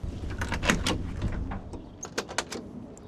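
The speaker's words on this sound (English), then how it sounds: "the doors open up wonderfully" Door of a 1969 Ford Mustang Mach 1 with a 427ci side-oiler engine being opened, a short mechanical latch click followed by a few light clunks from the hinges, close and fairly quiet.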